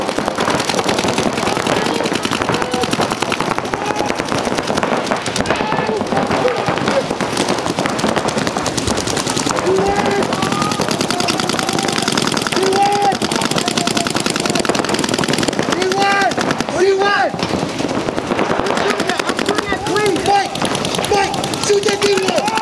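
Paintball markers firing during an X-Ball paintball game outdoors, rapid loud popping bursts and volleys continuing throughout, with shouting voices over the shots.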